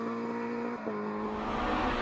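A 2-litre Ford Escort rally car engine drones steadily on a forest stage, its note holding a sustained high pitch with a brief dip midway before rising again, loud and close throughout.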